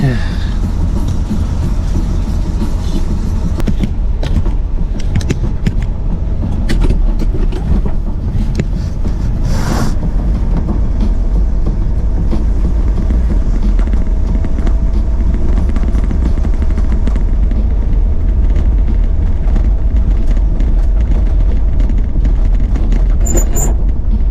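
A 1968 Pontiac LeMans drives along with its engine rumbling steadily for the whole stretch, a loud, continuous low drone from inside the car with road noise and no talking.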